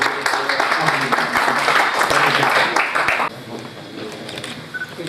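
An audience applauds at a book launch ceremony in Islamabad, with steady, dense clapping that fills the room for about three seconds, then eases off to scattered claps under murmured voices.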